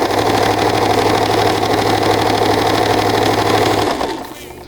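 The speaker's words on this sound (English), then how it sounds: "And I'm just rolling it. And I'm just going to sew it down." A sewing machine stitches down a rolled hem with a steady, loud, close motor hum that runs evenly and then stops near the end.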